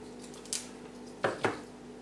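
Blades cut through orchid roots during repotting, making three short, crisp snips close by in quiet surroundings.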